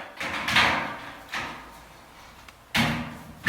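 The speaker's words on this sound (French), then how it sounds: "vous prenez une pince à sertir pour le placo et vous poinçonnez le montant et le rail." Crimping pliers punch through a metal drywall stud and rail during plasterboard partition framing, giving a few loud, close metallic crunches and clanks spaced about a second apart.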